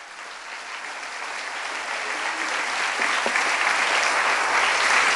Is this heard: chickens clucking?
no